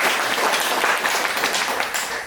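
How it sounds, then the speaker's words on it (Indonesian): Audience applause at the opening of a regional coordination meeting of public radio RRI for Papua and West Papua, a dense steady wash of many hands clapping together, fairly loud and continuous throughout, with no talking over it. "Kita beri tepuk tangan untuk kita semua."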